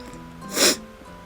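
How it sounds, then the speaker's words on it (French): A single sharp sneeze bursts out from a person speaking French in a quiet indoor setting. It is one short, loud, breathy blast lasting under half a second, with near-silence before and after. "Je dois éternuer."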